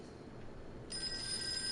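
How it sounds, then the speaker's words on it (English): A telephone in a Call of Cthulhu detective game starts ringing partway through, a bright electronic tone cutting in over a low murky background, with no voices present. "Phone's ringing."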